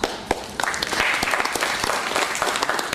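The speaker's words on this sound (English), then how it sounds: "I don't want unnecessary clapping" Audience at a spiritual talk breaking into sustained applause, dense clapping from many hands throughout, fairly loud and close, with no voices over it.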